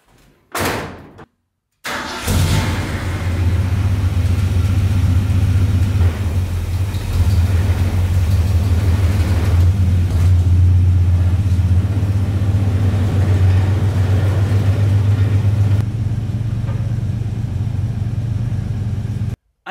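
A 1974 Ford F100 pickup truck has its door shut and its engine fire up, then it runs with a steady, loud low rumble as it pulls out, with a brief quiet gap before the start.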